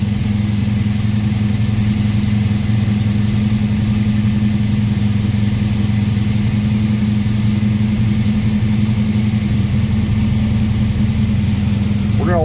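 A documented 1969 Camaro Z/28 with its original DZ 302 V8 idles steadily after a cold start on a 26-degree Wisconsin day, a loud, continuous low rumble that stays even throughout.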